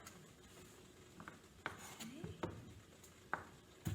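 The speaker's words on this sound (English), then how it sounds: "So we'll use 2 russet potatoes, and I'm trying to dice it." A French chef knife dices russet potatoes on a cutting board: a handful of sharp, separate chops spaced irregularly over a low kitchen background, moderately close.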